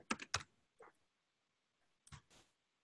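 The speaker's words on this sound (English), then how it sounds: "I'm typing all the variables in all caps" Typing on a computer keyboard: a few quick clustered keystrokes, a lone tap, then another short burst after a pause, crisp and close in an otherwise quiet room.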